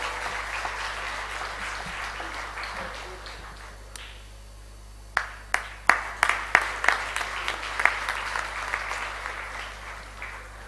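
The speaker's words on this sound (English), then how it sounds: "A round of applause for our Qatar office." Applause at a corporate ISO 17020 accreditation launch event for an office: a broad wash of clapping from a crowd, giving way after a lull to a run of sharper, spaced individual claps, with mains hum beneath.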